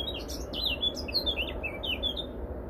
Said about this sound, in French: cet oiseau qui doit être un cœur rouge